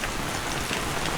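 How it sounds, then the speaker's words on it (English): Heavy rain from a passing storm near a campground drums steadily on surfaces, a loud, dense, continuous wash of drops with no talk. "Yeah, no, it was just heavy rain."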